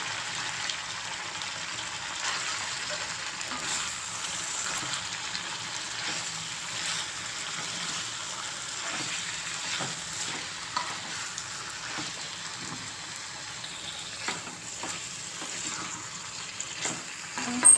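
Spinach frying and being stirred in a pan for Telugu palakura chicken curry makes a continuous low sizzle broken by frequent light clicks and scrapes of a spoon, with some watery bubbling and no talk.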